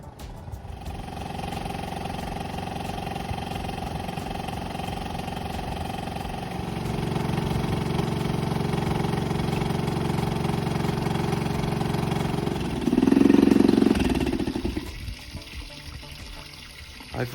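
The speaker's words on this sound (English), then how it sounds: "I've run the engine for a few minutes to warm the oil up, ready for the oil change" A Honda 2.3hp four-stroke auxiliary outboard motor idles steadily while warming up, a continuous close engine drone that shifts slightly in pitch midway, with water trickling nearby and no talking.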